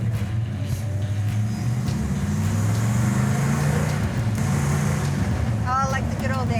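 A car engine drones steadily while driving, a low continuous hum and road rumble that stays close and even throughout, with people chatting over it.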